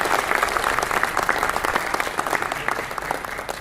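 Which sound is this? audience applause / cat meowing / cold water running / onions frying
audience applause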